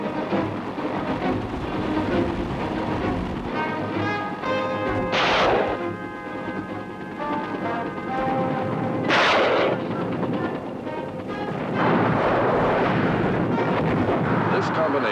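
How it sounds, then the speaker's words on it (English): Rockets and raking machine gun fire from AH-1G Huey Cobra helicopters in the Vietnam War: heavy booms and sustained bursts of gunfire, with loud explosive blasts near five and nine seconds amid continuous battle noise. "AH-1G Huey Cobras swept in with rockets and raking machine gun fire"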